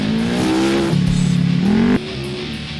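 A turbocharged trophy-truck style buggy revs hard in the dunes, its engine note climbing and dropping through two strong pulls before easing to a lower drone, close and loud.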